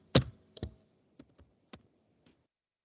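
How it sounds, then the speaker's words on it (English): Typing on a computer keyboard at a service desk: a few sparse, separated key clicks and taps, close and distinct against a quiet background, with longer pauses between strokes. "I'm typing tickets."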